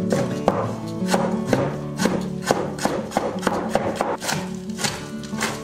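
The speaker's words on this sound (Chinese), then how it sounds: "洗净的菠菜切一下， 切点葱花、姜片" A knife chops washed spinach, scallions and ginger slices on a board, making a steady run of crisp, evenly spaced cuts at close range over a soft tonal background.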